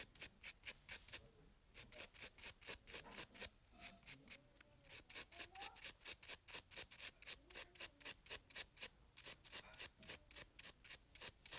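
Brisk back-and-forth scrubbing of fingernails with a brush to clear filing dust during manicure prep, a steady rapid rhythm of rubbing strokes with one brief pause, close and moderately loud, no talking.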